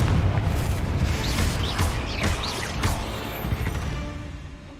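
A Confringo spell explodes in a magic video game, with a dense, loud booming blast and a crashing whoosh that rumble on for several seconds before trailing off.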